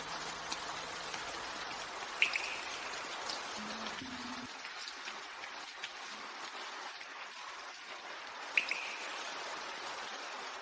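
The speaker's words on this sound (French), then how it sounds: "Il pleut à verse" Rain pours down in a steady, hissing downpour, with a couple of sharp faint chirps standing out briefly.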